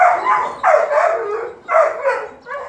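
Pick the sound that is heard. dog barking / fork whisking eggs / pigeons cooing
dog barking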